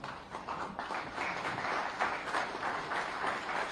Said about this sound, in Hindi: आपकी लगातार सम्मान भरी तालियों के साथ